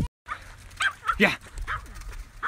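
Excited dog yipping and whimpering during its first time in water, with a few short barks and splashy noise, close by under loud, excited human shouting.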